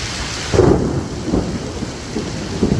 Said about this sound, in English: Do you see how much water is coming off that roof?